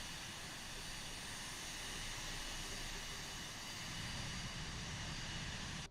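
Steady jet engine drone of a Cirrus Vision Jet G2 in a flight simulator game, a constant broadband roar holding at even level throughout with no talk.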